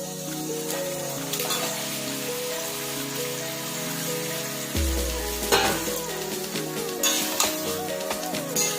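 Marinated chicken drops into a hot pan with a sudden loud sizzle, then keeps frying and crackling steadily while being stirred, close by.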